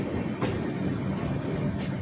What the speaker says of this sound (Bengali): এই মুহূর্তে আমাদের ট্রেন প্রবেশ করছে রামপুরহাট জাংশনের 2 নম্বর প্ল্যাটফর্মে।